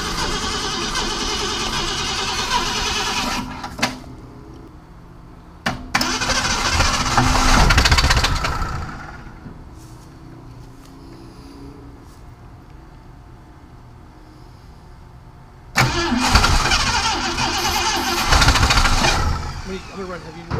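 A 1965 Ford Mustang Fastback engine cranks and catches in two loud, rough bursts of revving and running, separated by a quieter gap with faint clicks, close by while people talk over it.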